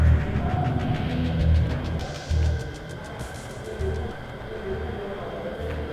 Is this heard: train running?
yes